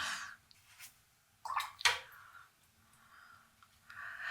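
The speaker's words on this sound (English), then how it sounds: "Cleaning my brush." A watercolour brush swished and rinsed in a water pot, giving a few brief splashy sloshes close by, the strongest pair near the middle, amid quiet pauses.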